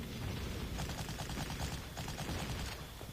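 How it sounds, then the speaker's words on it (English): Artillery fire in the WWII strategy game Panzer Corps, heard as a dense, steady rumble of crackling blasts that runs loud and unbroken throughout, with no talking. "The artillery got a shot in."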